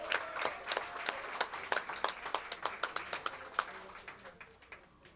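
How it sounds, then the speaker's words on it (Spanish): An audience applauds to welcome a guest onto the stage at a live comedy horror-story show, with scattered individual claps ringing out over a steady wash of clapping that builds and then slowly thins. "recibo con un fuerte aplauso al señor Fex Quiroga"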